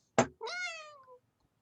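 A kitten gives a single clear, rising-then-falling meow, close and fairly loud, preceded by a brief sharp rustle or thump, then silence.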